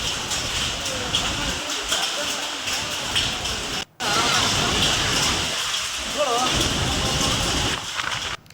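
Heavy rain pours during a windy thunderstorm in Koppal, a dense steady hiss of drops beating on surfaces that continues almost without a break, with a brief cut partway through and a voice faintly audible underneath.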